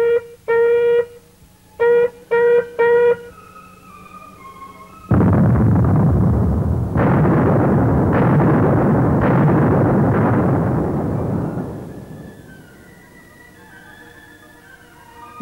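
Several short warning signal blasts sound at a stone quarry, then a loud, rumbling blasting explosion follows, with repeated booms and debris roar fading out over several seconds.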